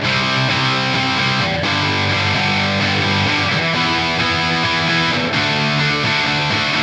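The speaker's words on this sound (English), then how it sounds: "But then we can jump over to a high gain amp" Electric guitar runs through a high-gain amp plugin tone, a dense, saturated distorted sound with chugging chords and sustained notes, loud and continuous throughout.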